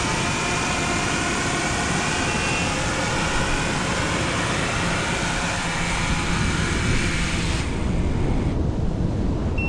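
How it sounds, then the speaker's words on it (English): Steady, loud whine and rushing hum of a Swell Pro FD3 fishing drone in flight over water, carrying bait out, sustained without a break and fading toward the end. "Using my Swell Pro FD3 to drop out the baits."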